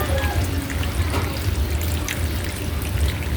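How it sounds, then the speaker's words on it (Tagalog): A little water trickles and pours into a pan of chicken afritada without tomato sauce, a steady close liquid stream over a low background rumble. "Lagyan natin ng konting tubig."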